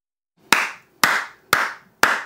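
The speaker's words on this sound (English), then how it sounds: "round of applause" Four sharp, evenly spaced claps ring out alone, each loud and crisp with a short fading tail.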